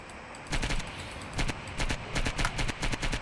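Video-game gunfire in Project IGI, fired at an enemy, comes as rapid bursts of sharp shots, several short volleys in quick succession, loud and close, with no talking.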